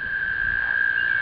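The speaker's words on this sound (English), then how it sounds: "can you hear the toads? Toads are singing since I walked away." Toads trill continuously from a yard garden, a steady high-pitched ringing call held without a break over faint outdoor background noise.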